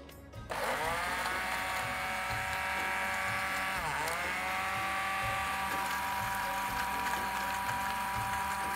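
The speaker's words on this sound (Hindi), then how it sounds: "इसको हम ब्लेंड करेंगे 2 टेबलस्पून वाटर के साथ" A Westpoint blender runs steadily, whirring loud and close as it blends watermelon with mint leaves and water, starting abruptly after a brief pause and holding a constant motor drone with a slight pitch dip midway.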